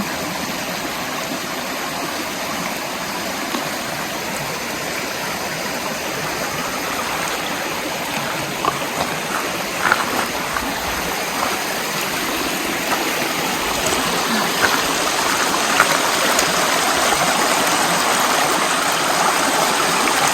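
Steady broadband rush of stream water on the Appalachian Trail, continuous and fairly close, with a few faint clicks and splashes toward the end.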